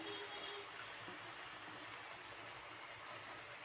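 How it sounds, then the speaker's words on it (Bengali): Cauliflower is rinsed under water, and a steady, even rush of running water continues unbroken throughout at a low, constant level. "ফুলকপি ধুয়ে আবার ভিজিয়ে রাখছি।"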